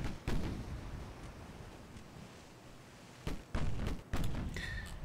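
Naval artillery salvos firing HE shells in Ultimate Admiral Dreadnoughts boom in a few heavy, muffled bursts with a rumbling tail between them.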